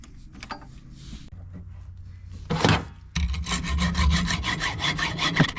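Battery bolts are cut down to size, with scattered scraping strokes and then a sustained run of rough, rhythmic sawing that grows loud and close, without any speech.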